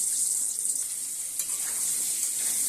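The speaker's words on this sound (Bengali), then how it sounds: "দেখো আলুগুলো এখন ভেজে নেব ভালো করে" Potatoes frying in hot oil seasoned with turmeric, a steady close hiss of sizzling with a brief crackle partway through, no voices.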